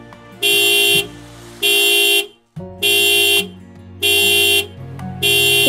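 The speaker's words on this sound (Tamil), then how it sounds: "கார் மேலே ஹாரன் அடிச்சுக்கிட்டே இருக்குது" A car horn honks in long repeated blasts, four or five loud toots with short gaps between them, close by.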